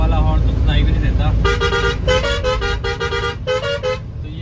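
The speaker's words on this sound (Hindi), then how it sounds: "तो ये वाला हॉर्न हमारे बहुत काम आ रहा है।" A car horn blasts in heavy, foggy Delhi traffic, first a few short beeps, then a run of loud, close, rapid honks over engine rumble.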